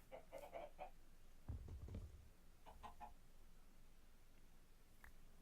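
Chickens in the Minecraft video game cluck in short bursts over a soft, steady background hiss, with a few scattered clucks spread across several seconds.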